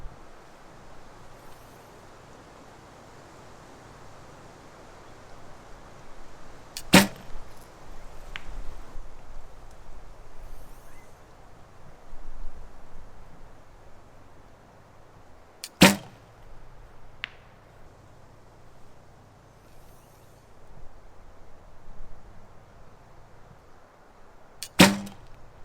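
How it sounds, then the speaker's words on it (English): Three compound bow shots with a Ramrods Ultra V4 stabilizer and V-bars, each a sharp, sudden snap, spaced about nine seconds apart over steady outdoor wind and rustling. "So despite the odd noise, or the different noise that I'm used to, the actual reaction or feel of the shot is really, really dead."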